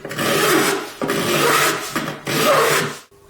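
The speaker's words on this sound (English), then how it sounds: "So now comes the slightly trickier part of filing these corners off" Up close, a file rasps hard against the corners of a plastic part in a few long, loud strokes with brief breaks between them; no talking.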